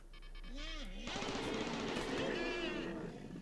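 Rapid bursts of automatic turret fire from military turrets in the colony-building game Rimworld, crackling loudly and continuously alongside game sound effects, with a voice briefly speaking over it.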